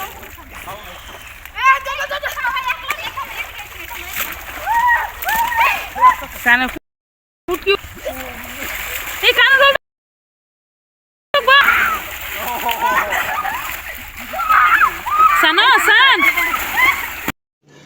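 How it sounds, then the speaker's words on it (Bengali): People bathing in a village pond, with loud irregular water splashing and sloshing close by, mixed with lively voices and shouts, and two short silent gaps. "এখন আমরা চলে আসলাম পুকুরে স্নান করার জন্য।"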